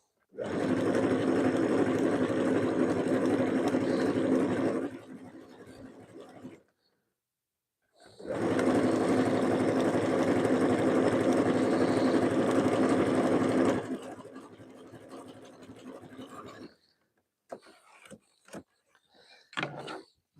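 A FAF Quilt Ambition 635 quilting sewing machine stitches steadily in two long runs, each several seconds, with a pause between and faint clicks and handling noises afterward.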